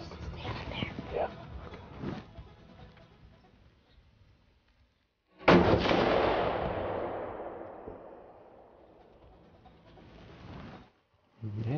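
A single loud rifle shot goes off during a deer hunt in the Louisiana woods, with a sharp crack that rolls away in a long, fading echo. Hushed voices talk before and after it.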